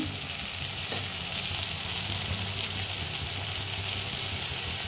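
Onions and green chillies fry in oil in a pan with a steady, dense sizzle that continues evenly throughout, close and moderately loud, with faint stirring under it and no talking.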